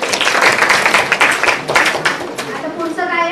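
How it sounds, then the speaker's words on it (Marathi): Audience clapping at a live Ayurveda lecture on joint and spine disorders, a dense steady patter of many hands over about three seconds, continuing under a lecturer's voice. "सगळ्यांनी टाळ्या वाजवून मांडायचं."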